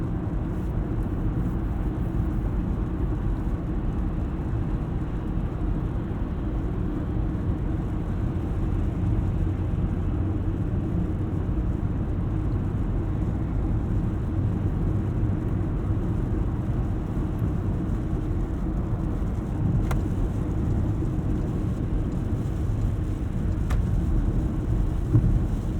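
Inside a 2015 Porsche Macan Turbo cruising in comfort mode, a steady, heavy low rumble of road and engine drone fills the cabin without letup, with no voices.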